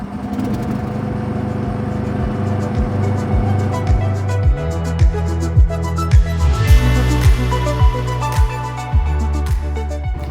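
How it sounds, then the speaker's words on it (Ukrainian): A NEX GROUP NANO mini excavator's engine runs steadily at close range, a loud low idle with a regular pulsing rhythm and shifting pitch, no voices. "екскаватор заводиться зі стартера за допомогою ключа"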